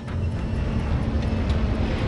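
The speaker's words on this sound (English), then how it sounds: "The sound at first was just a normal airplane flying above." A steady low engine rumble from an airliner drones overhead above Queens, New York, loud and constant, like a plane passing above.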